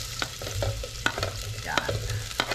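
Garlic and onion sauté in a pan, a steady sizzle with repeated scraping stirs and clinks of a utensil, close and moderately loud.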